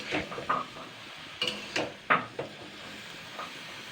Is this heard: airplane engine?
no